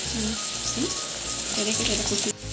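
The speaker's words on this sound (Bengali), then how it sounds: "এরপর ডালটা ঢেলে দেওয়া হলো" Lentils (dal) land in a hot pan with a loud, steady, close sizzle that cuts off sharply near the end, while a voice talks over it.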